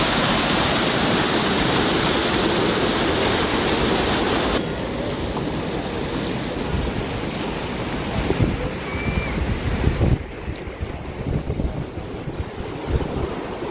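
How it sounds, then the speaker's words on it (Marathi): Floodwater of a Patalganga river tributary near Kelavane village in Raigad, Maharashtra, rushes with a loud, continuous roar that stays close and steady throughout, with no voices. "पाताळगंगा नदीने ज्याप्रमाणे आपली धोक्याची पातळी म्हणजे ओलांडली आहे"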